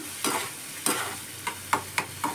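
Dahi paneer is stirred and mixed in a pan with a handful of distinct spatula scrapes over a soft sizzle, close and fairly loud, with no voices.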